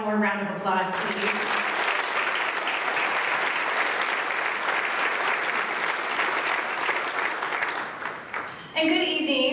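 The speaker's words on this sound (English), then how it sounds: "Let's give Adam one more round of applause" Sustained applause from an audience at a university scholarship recognition reception, with speech at the start, steady loud clapping through the middle, and talking resuming as it fades.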